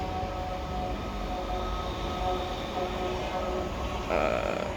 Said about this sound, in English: I can hear a train.